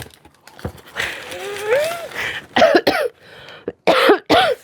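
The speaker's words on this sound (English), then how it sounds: "Sorry, I've got a lingering cough." A person with a lingering cough lets out several sharp, close coughs in quick bursts near the end, after a stretch of quieter mumbled sounds in a cozy indoor art studio.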